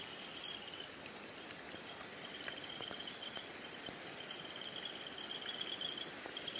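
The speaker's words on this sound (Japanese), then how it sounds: "雨でちょっとわからんこれ。" Rain falls steadily outdoors at night, a soft, even hiss of drops with a faint insect trill running through it, quiet and without voices.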